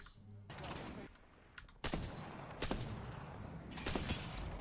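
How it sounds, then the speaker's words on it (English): Sniper rifle gunfire rings out in a video game battle, with a few sharp, loud shots spaced a second or more apart over a continuous noisy background. "we're just looking at a sniper battle for the next 3 minutes"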